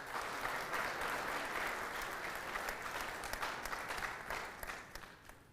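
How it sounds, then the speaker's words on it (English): An audience claps warmly at the opening ceremony of a World Trade Centers Association general assembly, the applause holding steady before thinning and fading near the end, with no talk. "Please, another round of applause."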